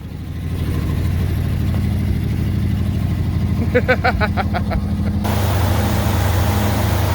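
A Lincoln engine catches and runs, settling into a steady, loud mechanical drone with a brief burst of rhythmic clatter midway and a change in tone near the end.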